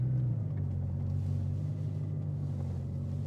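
A Bugatti Chiron Sport hypercar rated at 1500 hp idles with a deep, steady engine rumble as it shifts into reverse, heard close and continuous with no speech.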